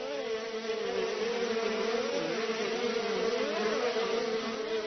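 Wild honeybees swarm around a nest being raided by hand, making a continuous wavering buzz whose pitch drifts up and down. The sound is fairly soft and close, with no talking.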